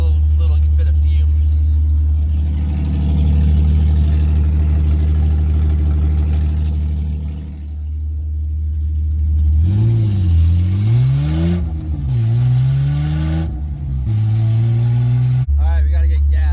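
An idling car with open headers and no exhaust gives a deep, loud rumble, then several sharp revs rise and fall in separate bursts, close to the microphone.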